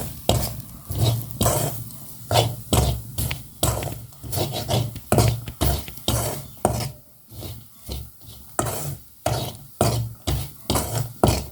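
Dried shrimp masala is sautéed in a pan with a spatula: steady rhythmic scraping and stirring strokes over a soft sizzle, close and fairly loud, with no talking.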